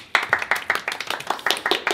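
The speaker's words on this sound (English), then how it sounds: "Give yourself a round of applause." Distinct handclaps from a small group at a Christmas gathering, crisp and fairly close, landing in a quick uneven rhythm with no talk over them.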